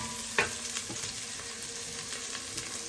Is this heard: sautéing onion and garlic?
yes